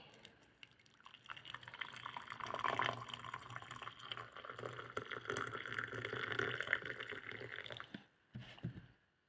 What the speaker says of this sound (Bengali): তারপরে দেব গরম পানি